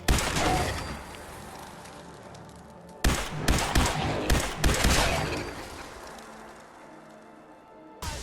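Ballistic gunfire from the video game Starfield or Fallout 4: a lone shot, then a quick burst of several sharp reports with echoing tails, and a final shot at the end, all heard close and without talk.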